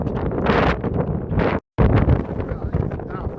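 Strong gusts of wind buffet the microphone at a hilltop trig point in the Howgills, with a loud roaring rush, briefly cutting out before blowing on steadily.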